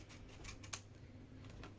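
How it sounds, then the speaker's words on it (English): Scissors cutting paper along drawn lines for making paper bows, a few quiet close snips over a soft background hiss. "So we cut along the lines."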